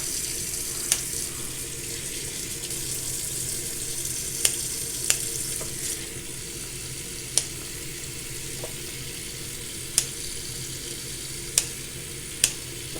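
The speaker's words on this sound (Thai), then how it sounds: "เดี๋ยวเราไปทำการ ล้างกุหลาบแล้วก็ตากแห้งกันเลยค่ะ" Water runs steadily from a tap into a sink while fresh roses are rinsed to wash out small insects, a soft continuous splashing with occasional sharp clicks and clinks, no talking.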